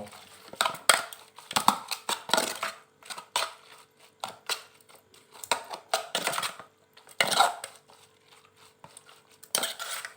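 A spoon mixing bamboo shoot soup in a bowl: irregular scraping, clinking and wet stirring strokes, close and fairly steady throughout, with no one talking.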